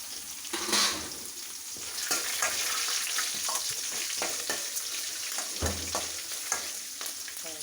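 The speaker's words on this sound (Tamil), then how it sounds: "இன்னும் கொஞ்சம் நல்லா வதக்கிட்டு" Vegetables sauté in a pan with a steady soft sizzle, broken by scraping stirs and a few sharper clatters of the spoon, close and fairly quiet with no talking.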